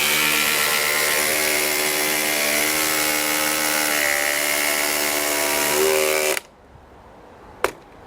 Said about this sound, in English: This thing is much quieter to use than a standard impact driver